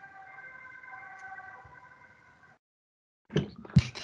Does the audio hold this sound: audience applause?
no